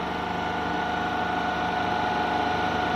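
A DC shunt generator set runs steadily at 1500 RPM, making a continuous loud mechanical drone and whine with a constant hum and no change across the moment.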